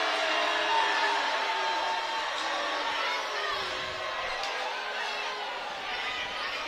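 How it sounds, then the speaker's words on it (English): Basketball crowd at a high school boys regional championship game murmuring and calling out in disagreement over a foul call, a steady broad roar of many voices filling the gym with no clear peaks. "The Eagles crowd disagreeing."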